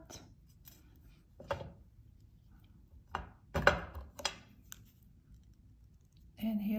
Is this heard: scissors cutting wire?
yes